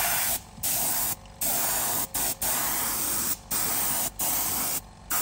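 Short bursts of spray paint hiss out one after another onto a Jaguar XK8 leather steering wheel, about seven sprays with brief pauses between, close and fairly loud.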